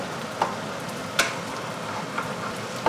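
Beaten eggs scramble in a hot wok with a steady, close sizzle, broken by a few sharp clicks of a spatula against the metal.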